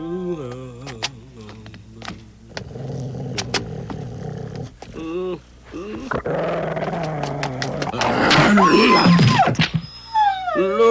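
A cartoon dog in a Tagalog-dubbed Doraemon episode growls, its rough snarl building louder and more intense over the second half, mixed with character voices talking.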